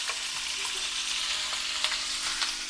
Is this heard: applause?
no